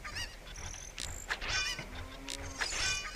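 In Zelda: Ocarina of Time, a cucco chicken squawks after a slingshot hit, giving several sharp honking cries in quick, uneven bursts.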